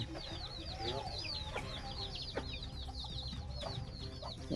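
Chickens clucking steadily in a farmyard alongside birdsong, with a low rumble of background noise and a few faint knocks throughout.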